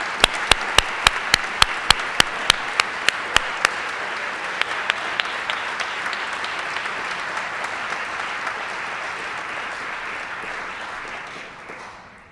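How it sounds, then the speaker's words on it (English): Crowd applause at a university athletics Hall of Fame induction ceremony: a few sharp, evenly spaced claps stand out over steady clapping from many hands, which gradually thins and fades out near the end. "Let's have one more round of applause for this class of 7 inductees"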